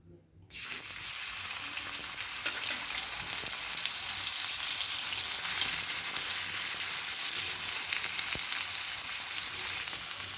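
Plenty of oil heats in a pan for frying onions until golden, starting with a quiet moment and then an abrupt, loud, steady hiss of sizzling that stays strong and even throughout.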